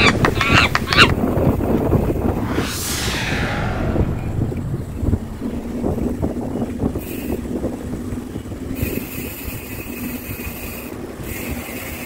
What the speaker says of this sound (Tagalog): Sorry medyo masakit sa tenga yung horn.